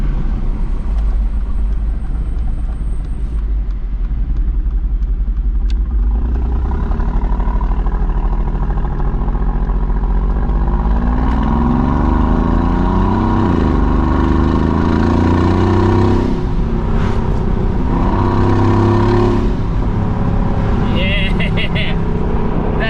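Mercedes G-Wagon fitted with blow-off valves driving along a road, its engine rumbling loudly and continuously with rising revs and whooshing releases, while people talk over it.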